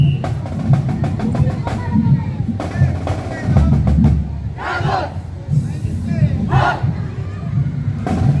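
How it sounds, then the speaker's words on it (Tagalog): A dense crowd at a festival stage in Taytay, Rizal, shouting and cheering continuously, with a roaring wash of voices and scattered louder yells rising above it throughout. "Huwag niyo kami sigawan."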